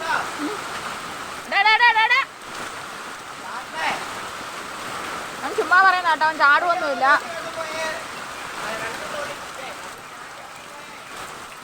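Floodwater from an overflowing Meenachil river rushes through a flooded yard and garden plot as a continuous close wash, while people talk loudly over it in short bursts.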